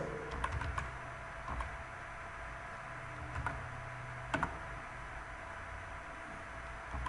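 Python code typed on a computer keyboard, quiet scattered key clicks in short bursts with pauses over a faint steady hiss, nearby and without talk.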